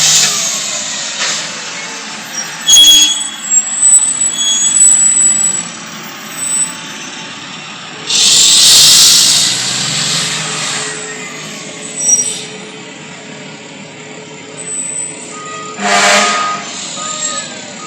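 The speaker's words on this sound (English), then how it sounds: "Here is a video of Chief Ron Chickatano returning a truck" A fire department truck returns with a rumbling engine heard outdoors, marked by several loud bursts of air-brake hiss and revving, separated by quieter idling stretches.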